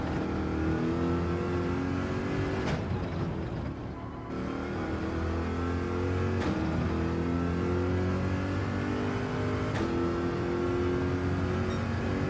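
Corvette race car engine from Gran Turismo 7 drones steadily at high revs, with brief dips and gear-change breaks, loud and continuous throughout without talk.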